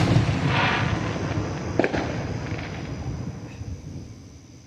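Fourth of July fireworks exploding outdoors, a rumbling boom followed by a sharp crackle burst midway and fading rumble, heard at moderate distance with no speech.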